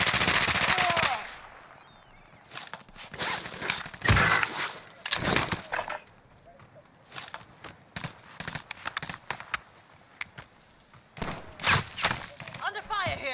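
Gunfire in Call of Duty Warzone, with loud bursts of automatic fire and sharp single shots in uneven clusters, close and heavy at times, then sparser rapid cracks, with occasional voices in between.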